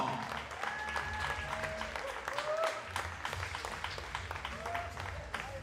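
Audience applause fills the hall at a women's 10 m pistol shooting final, a sustained, moderately distant clapping that continues throughout with faint tonal sounds over it.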